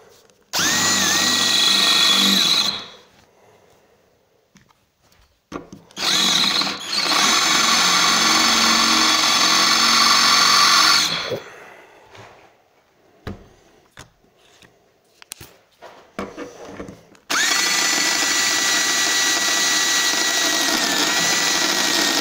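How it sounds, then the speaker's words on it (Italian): A Teccpo 18V cordless drill fitted with a 6 mm bit whines loudly in three sustained bursts, its motor pitch shifting as it loads and spins down, with quieter handling clatter and clicks between runs. "adesso metto la punta da 6 sul trapano"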